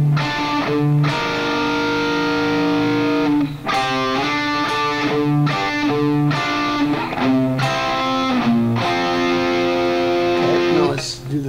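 A riff played on distorted electric guitar, loud and continuous, with chugging chords broken by short pauses and a fairly even rhythm throughout.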